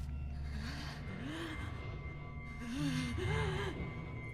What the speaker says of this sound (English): I hear what sounds like pained breathing